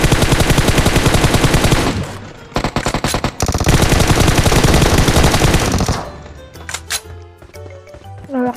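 Rapid automatic gunfire in PUBG Mobile, loud and dense bursts of shots with brief pauses, then sparser single shots and scattered cracks toward the end.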